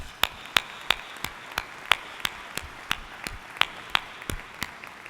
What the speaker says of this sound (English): Please give these four people a round of applause.